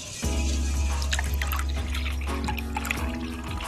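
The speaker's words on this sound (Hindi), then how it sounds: "अब इसमें हम डालेंगे कोकोनट क्रीम" Coconut cream pours into a dish in a steady, close liquid stream that starts abruptly and runs continuously with small gurgles and drips, no talking.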